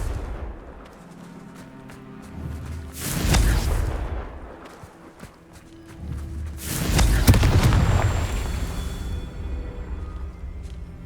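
Two heavy booming blasts of the Confringo fire spell in Hogwarts Legacy, each a loud burst that rolls out and decays, the second longer with a ringing tail.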